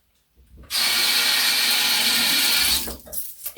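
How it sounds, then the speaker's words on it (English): A bathroom tap runs steadily for about two seconds while a toothbrush is rinsed under it, a close, loud hiss of water that starts and stops abruptly. "just rinse off my toothbrush properly, and then I'll just put it back in the case"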